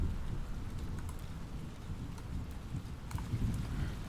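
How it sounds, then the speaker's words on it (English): A heavy downpour in a video game, steady rain hissing and pattering loudly with low rumbling like distant thunder and wind underneath, no voices. "You're not going to hear anything through this heavy downpour around you."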